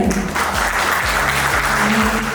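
Loud, dense applause from a crowd welcoming Athletics Federation of India athletes, steady clapping throughout with a low rhythmic thump underneath.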